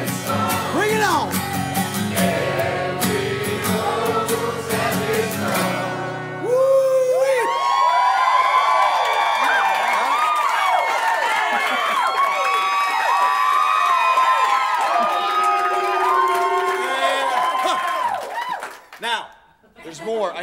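A concert crowd cheers loudly and continuously at an acoustic rock show, with whoops, shouts and high-pitched screams layered over one another, dense and sustained before easing off at the end.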